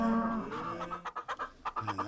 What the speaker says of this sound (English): I just got to deal with the chickens